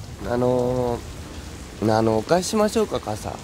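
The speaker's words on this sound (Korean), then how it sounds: "비가 보슬보슬 내리던 어느 날" Light drizzling rain falls as a soft, steady hiss in the background while a voice speaks over it in short phrases.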